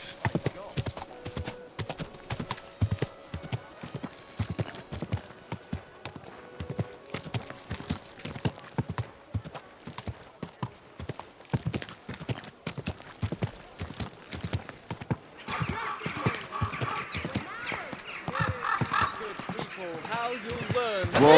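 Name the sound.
horse hooves in video game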